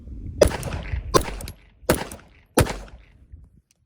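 Four sharp shots from a Sig P365 pistol firing 147 grain ammunition, spaced roughly three-quarters of a second apart, each a loud close crack with a short echoing tail, then quiet.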